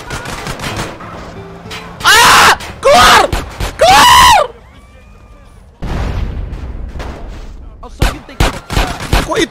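Bursts of gunfire in GTA San Andreas, three loud sustained volleys in quick succession, then scattered sharp shots, with shouting and a voice talking in between.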